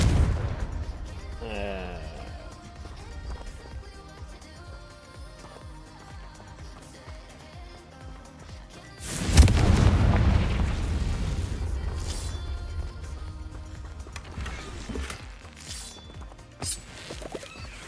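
Confringo spell blasts in the video game Hogwarts Legacy: a heavy explosive boom bursts in midway and rumbles on, with further pops and thuds against background game music and effects.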